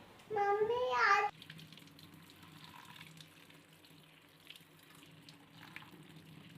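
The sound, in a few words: tap water while washing a child's hands and feet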